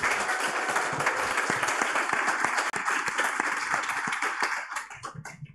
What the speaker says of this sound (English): We're going to give Kat one more round of applause for coming in.